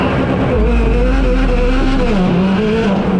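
A gymkhana car with a raised rev limit launches hard, its engine screaming loud and close as it climbs through the revs in one short blast, with some tire noise.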